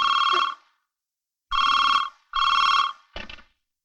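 A telephone bell rings in short, loud bursts, three full rings and a clipped fourth separated by brief silences.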